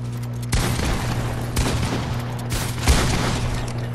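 Charged shotgun blasts in Fortnite, several loud close booming shots spaced about a second apart over a continuous game background hum.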